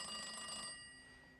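A telephone rings with a bright, metallic trill that sounds close, then fades into a ringing decay, with no voices.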